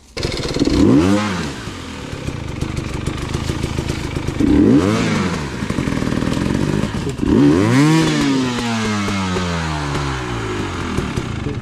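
An enduro motorcycle engine revs hard three times, each burst climbing sharply in pitch then dropping back, with a rough idle in between.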